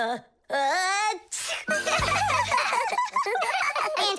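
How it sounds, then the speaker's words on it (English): A high, exaggerated voiced cartoon sneeze built up with a rising breathy intake, then a sharp burst followed by giggly vocal sounds, close and loud. "but then his nose tickled and achoo."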